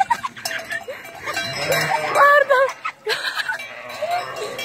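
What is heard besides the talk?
sheep bleating during transhumance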